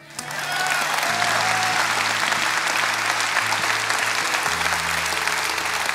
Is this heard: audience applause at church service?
yes